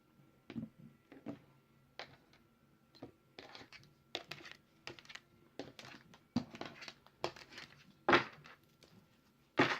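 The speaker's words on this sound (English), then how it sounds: "I just did a bunch of shuffling in my hand" Tarot cards are shuffled in the hand in a series of short, crisp riffling bursts separated by brief pauses, close and fairly quiet.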